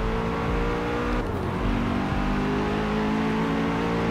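A Hennessey Venom GT in Forza Horizon 4 roars with a steady, loud engine drone, its pitch shifting partway through as the revs change, with no talk over it.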